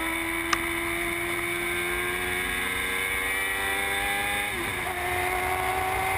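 On-board race car engine at Dubai Autodrome in Formula Gulf 1000 racing, a loud steady high-pitched drone holding revs through a drift, then a sharp downshift dip near the end before climbing again.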